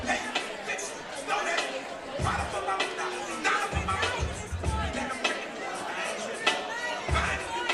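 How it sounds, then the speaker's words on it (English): A New York crowd at a women's boxing match at Sony Hall cheers and roars for the hometown favorite, a steady wall of crowd noise and chatter with louder swells and occasional thuds. "we're hearing this New York crowd roar for the hometown favorite in Hardy"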